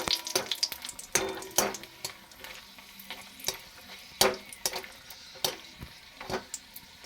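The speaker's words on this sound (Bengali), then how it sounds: "এবারে তেলের মধ্যে দিয়ে দিচ্ছি 4টে শুকনো লঙ্কা। শুকনো লঙ্কাটা আমি ভেজে নিচ্ছি।" Four dried red chillies frying in hot oil, a soft sizzle broken by sharp clinks and scrapes as they are stirred in the pan, close and fairly quiet.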